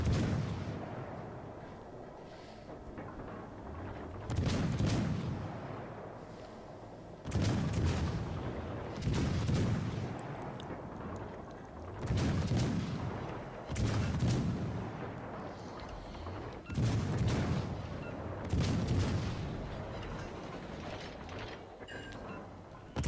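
Naval guns boom in repeated heavy salvos in World of Warships Legends, a German Tier 7 cruiser KMS Mainz in ranked battle, each loud blast roughly every two to three seconds over a steady low rumble, with no talking.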